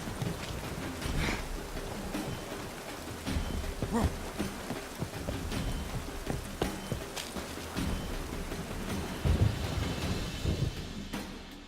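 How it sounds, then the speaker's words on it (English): Steady rain hisses through a night scene in The Witcher 3, with low rumbles of thunder rolling in and out and sharper cracks scattered across the stretch, no voices over it. "Rain again."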